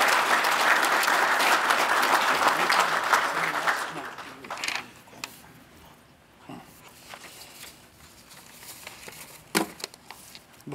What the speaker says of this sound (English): Let's give those folks a round of applause, please.